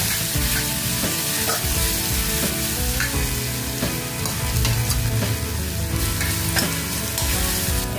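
Coriander, ginger, garlic and green chili paste sautéing in hot oil with fried cumin and mustard seeds for a Shegaon kachori filling. A loud, steady, close sizzle runs throughout with occasional stirring scrapes and no talking.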